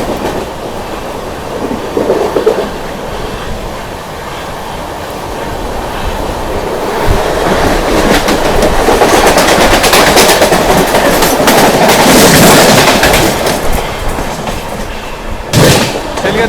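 The Rajdhani Express passes at high speed near Dadar in Mumbai, a loud rushing roar with clattering wheels building over several seconds, peaking, then easing, with a sharp burst near the end.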